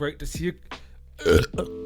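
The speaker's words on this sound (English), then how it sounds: "I guess I burped at the start of the video." A man burps at the very start, a loud, short, throaty belch, followed by a brief voiced sound.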